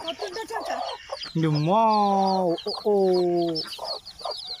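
Chickens cluck in quick bursts close by, broken by two long, drawn-out calls in the middle.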